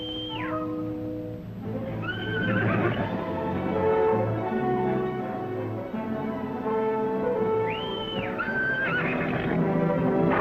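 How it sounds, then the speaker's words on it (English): A horse whinnies twice in a Western film serial, each high, shaky neigh rising then falling, over busy background action with other animal and movement sounds close by. "I got Benton's horse."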